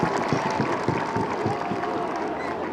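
Rugby union crowd at a Lancaster match cheering and clapping, a dense steady roar of many voices with scattered applause, broad and continuous throughout.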